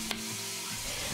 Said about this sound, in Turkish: Tencereye sıvı yağ ilave ettim ve etlerimi güzelce suyunu çekene kadar kavurdum.